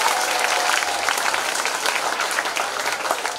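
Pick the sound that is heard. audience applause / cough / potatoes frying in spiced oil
audience applause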